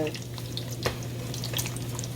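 French fries frying in hot grease, a steady close crackling hiss with scattered pops throughout and a low hum underneath.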